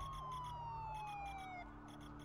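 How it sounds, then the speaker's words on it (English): Police car sirens wail and yelp in a Batman video game, several overlapping wavering tones sounding at moderate distance, pulsing in a quick rhythm before one drops away near the end. "There are quite a few police cars convening on your location."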